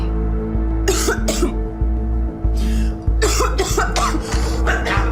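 Several harsh coughs come in quick bursts over a steady low hum, close and loud, with voices in between.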